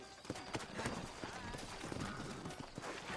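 Rhythmic clip-clop of horse hooves in the video game Red Dead Redemption plods along steadily, up close, with voices talking over it.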